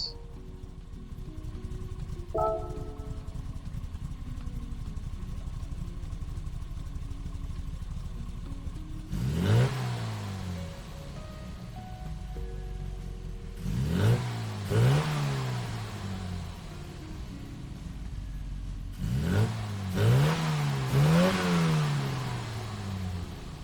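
A 1965 Mini Cooper S engine in Gran Turismo 7 idles with a steady mid-pitched burble, then revs sharply three times in separated bursts, each climbing and falling in pitch, loud and close with no talk.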